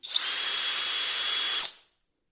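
A Pro-Craft PA 18Pro BL cordless drill-driver runs in second gear with a bright, steady high-pitched whine for about a second and a half before it stops abruptly and spins down.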